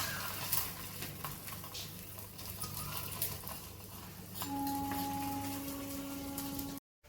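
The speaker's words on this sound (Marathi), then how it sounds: "आता हाच लाटलेला डायरेक्ट केला तव्यामध्ये, गरम तव्यामध्ये." An aloo paratha, rolled and placed straight onto a hot tawa, cooks with a steady, close sizzle and patter; partway through, a steady tonal hum joins in before the sound cuts off abruptly.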